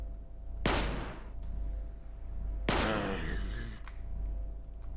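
Two sharp blasts of gunfire in the sci-fi tactical RPG Stellar Tactics, each a loud crack with a ringing decay, spaced a couple of seconds apart over a low hum.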